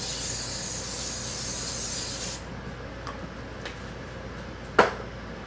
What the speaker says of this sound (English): I'll lightly spray it again.